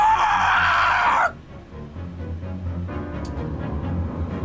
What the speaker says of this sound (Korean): 문 밖에서는 안진철의 비명과 살이 뜯기는 징그러운 소리가 들려왔다